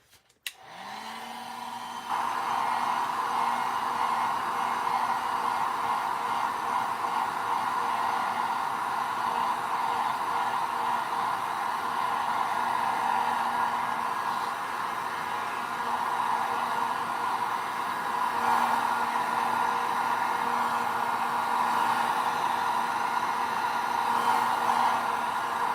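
A heat gun blows steadily while detailing a Star Wars action figure diorama, a loud continuous whooshing hiss that starts after a brief click and holds unchanged for the whole stretch, with no talking.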